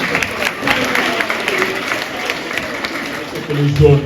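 Children applauding during a children's Mass in church. The clapping is scattered and moderate, with crowd murmur under it, and a voice comes in near the end.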